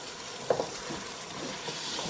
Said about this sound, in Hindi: इसको 1-2 मिनट और इसकी भुनाई करें आप।